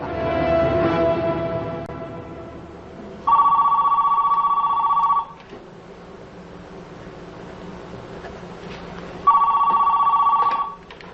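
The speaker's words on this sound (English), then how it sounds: "We begin by phoning with Company A's cell phone." A cell phone ringing with a steady electronic ring tone in two separate bursts of about two seconds each, with quiet background noise between them, at the start of a call test at 1,000 feet.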